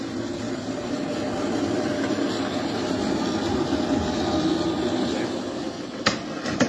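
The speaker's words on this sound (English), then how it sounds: "So far we have a train with 2 carriages." A small model garden train with two carriages rumbles steadily along its track, a continuous low whir, with a couple of sharp clicks near the end.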